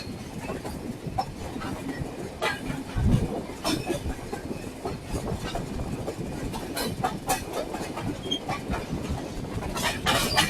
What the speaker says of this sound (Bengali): আমি আছি এখন নীলসাগর এক্সপ্রেসে